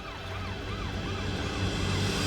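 A wailing ambulance siren sweeps up and down in repeated arcs, loud and steady throughout, with a low engine hum underneath and no voices.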